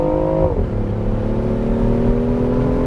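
A BMW i8 Roadster accelerates hard onto a Florida highway, its engine tone dropping with a gear shift and then climbing steadily under continuous loud road and wind noise, heard from inside without talk.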